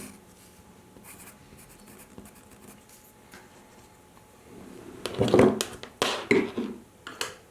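Pencil sketching a motor mount part drawing on paper, quiet at first, then a burst of scratchy, brisk strokes near the end.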